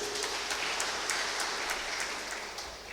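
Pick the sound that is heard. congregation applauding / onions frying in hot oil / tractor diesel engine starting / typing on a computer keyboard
congregation applauding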